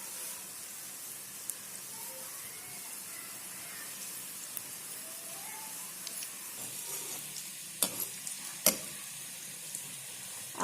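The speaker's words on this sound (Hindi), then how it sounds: "तो अब आपको दिखाने के लिए मैं इनको फ्राई कर रही हूँ" Fish potato rolls fry in hot oil over medium heat with a steady, even sizzle and hiss. A couple of sharp clinks of a utensil sound near the end.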